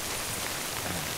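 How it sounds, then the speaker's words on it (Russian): Steady, dense rain hisses across the whole moment in the video game Death Stranding, an even wash of drops with no voices. "Я могу переждать там дождь."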